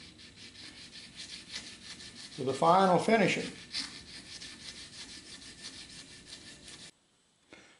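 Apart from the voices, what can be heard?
sanding strip rubbing on steel blade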